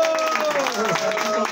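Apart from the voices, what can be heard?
audience applause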